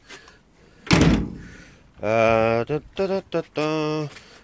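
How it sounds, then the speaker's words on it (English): An old car door swings shut against a homemade striker plate with a single solid, close thunk, followed by a person talking. "I made up myself a little striker plate to hold this door because it was missing."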